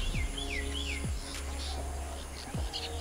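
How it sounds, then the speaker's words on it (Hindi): Birds sing outdoors on a morning: a few short sweeping chirps and tweets, fairly faint and at a middle distance, over a low steady background hum. "आप लोग सुन सकते हो बहुत अच्छा अच्छा प्यारा प्यारा पंछी का साउंड आ रहा है आगे"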